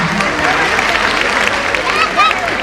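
Audience clapping at a school annual function, a dense continuous patter of many hands with crowd murmur mixed in, steady and fairly loud throughout.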